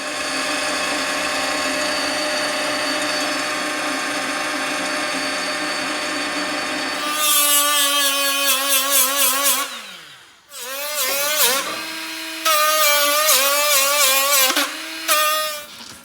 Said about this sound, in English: I'm gonna use the drill press.